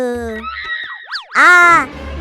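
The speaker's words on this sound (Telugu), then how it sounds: "ఏంట్రా అరుపు? అమ్మ నా చెయ్యి కాల్చిందండి." A boy screams in pain after his hand is burned: a loud, wavering, drawn-out cry of about half a second that rises and falls. Quieter voiced sounds come before it.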